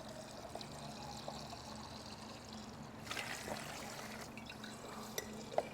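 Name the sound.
water draining from a 1983 Kawasaki GPz1100 motorcycle engine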